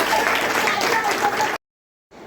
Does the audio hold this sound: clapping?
yes